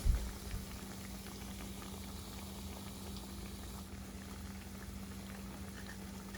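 Steady low bubbling and sizzling of salmon croquettes frying in hot oil, continuous and fairly quiet, with a faint hum underneath.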